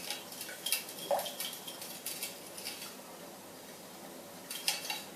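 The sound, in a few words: stirring melting cacao butter in a pot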